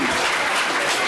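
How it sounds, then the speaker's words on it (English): Brief burst of dense crowd applause at a county commission meeting honoring the Lake Mary All-Star softball team, loud and close, filling the whole short moment. "let's give a big round of applause for the Lake Mary All-Star softball team"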